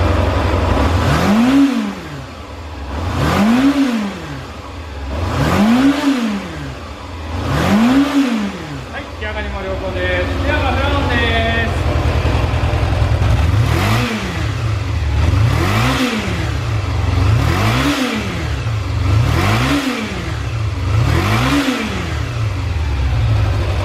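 A Yamaha XJR400R motorcycle engine starts and revs repeatedly in rhythmic bursts, rising and falling several times, with a brief pause and some talk in the middle before the revving resumes.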